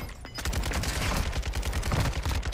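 Dense, continuous gunfire in Warzone 2, loud and close, with rapid bursts of automatic shots layered over heavy rumbling impacts across the whole moment, no voices.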